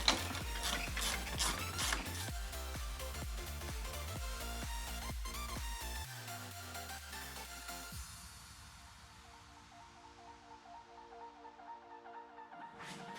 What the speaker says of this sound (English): I'm just going to undo these clamps here for the intercooler piping.